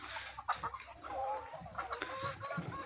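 Village chickens cluck in a coop, a close cluster of short, uneven clucks and murmuring calls from several birds at moderate loudness.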